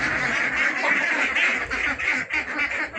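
A dense chorus of many farm ducks quacking continuously and loudly, close at hand, with no pauses.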